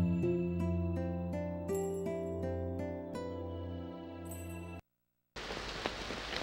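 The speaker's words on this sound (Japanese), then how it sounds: "わあ、大変、雨が降ってきちゃった。" Steady rain hisses in the PS2 game Kaeru Batake de Tsukamaete. It starts suddenly after a melody ends and a moment of silence, then holds as an even wash for over a second.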